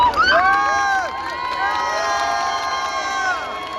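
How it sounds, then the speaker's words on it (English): Dutch fans in a crowd at the Spa-Francorchamps circuit cheer and shout during the 2023 Belgian Grand Prix, a loud, steady roar of many voices with rising and falling whoops throughout. "Even the Dutch fans seemed to be cheering for Piastri."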